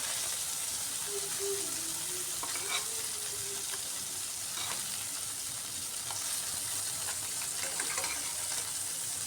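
Tengra fish being turned over and fried in a pan on low gas heat, a continuous close sizzle with scraping and stirring clatter from a utensil as the pieces are flipped and moved around.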